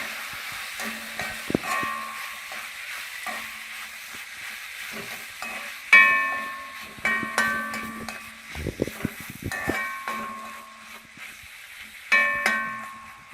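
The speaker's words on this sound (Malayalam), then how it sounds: "2 തക്കാളിയിലേക്ക് നമ്മൾ ഈ 2 സ്പൂൺ തേങ്ങ ചിരണ്ടി വെച്ചെടുത്തിടാം. ഇളക്കി കൊടുക്കാം." A spoon stirs grated coconut into cooked tomatoes in a pan for tomato chutney. Repeated scraping and clinking strokes sound over a soft sizzle, with a few sharper metallic knocks against the pan.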